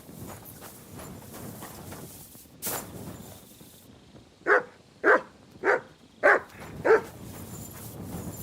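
A dog barking in the medieval role-playing game Kingdom Come: Deliverance II, five loud, close, evenly spaced barks after quieter ambient game sounds and footsteps.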